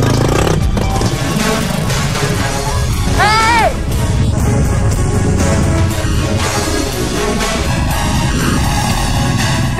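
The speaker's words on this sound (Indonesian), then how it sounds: "motor yang saya tumpangi tidak berdaya menaklukkan tanjakan batu besar" A motorcycle engine strains and revs while climbing a steep rocky track in remote Sulawesi, loud and close, with clattering, a short whistle-like tone and voices mixed in.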